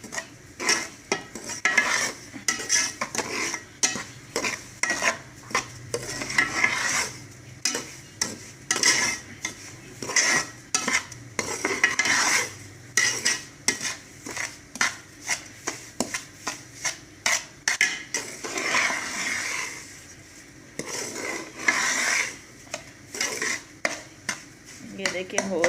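Semolina is stirred in ghee in a pan for halwa, making repeated rhythmic scraping and rubbing strokes of a spoon against the metal over a faint sizzle, close and steady throughout.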